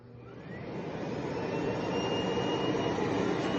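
A Miele Blizzard CX1 bagless canister vacuum cleaner switches on and spins up, its motor whine rising over the first second or two into a steady, airy roar heard close and alone.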